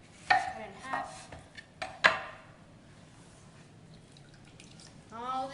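A knife cuts a lemon in half on a cutting board while a shrimp boil is prepared, giving a few sharp chopping knocks early on, followed by quieter kitchen sounds and a brief trailing voice.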